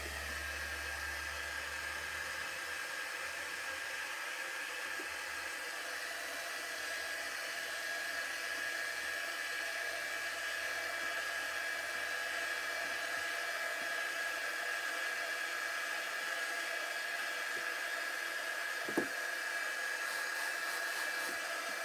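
A hair dryer runs steadily to dry Mod Podge on a craft canvas, a continuous close whirring hiss with a faint whine that stays even throughout, with one brief knock near the end.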